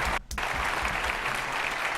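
An audience claps at the EA E3 2018 press conference, steady crowd applause heard from a distance, with a brief cut near the start before the clapping resumes.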